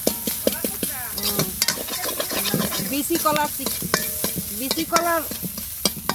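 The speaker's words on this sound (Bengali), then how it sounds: "মশলা ভাজা করব" Spices frying in a pan for a pumpkin-greens and shrimp dish, with steady sizzling and repeated scraping strokes of a stirring spoon close by, while someone speaks briefly over it.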